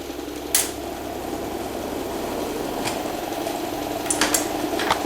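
A sewing machine hems a cut T-shirt, running with a steady, close mechanical whir and a few brief clicks throughout.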